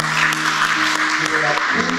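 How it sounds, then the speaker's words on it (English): Clapping from the audience for the teaching staff at a primary school awards ceremony in Uganda, a steady burst of applause with sustained tones and voices mixed underneath. "I request that you stand up for a round of applause."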